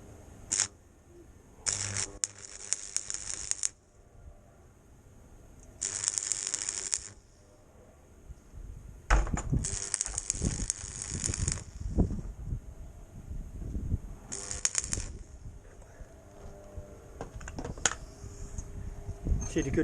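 Tack welding on a Morris Minor bumper: several short crackling, buzzing weld bursts separated by pauses, with clanking and handling noise in between.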